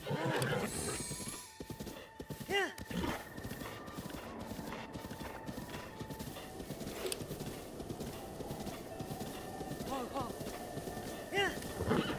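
Hooves clip-clop steadily as a horse trots in Zelda: Breath of the Wild, with several whinnies and neighs breaking through over the game's music and ambient sound.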